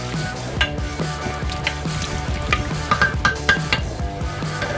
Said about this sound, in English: Just stirring this to get the salt and pepper mixed around.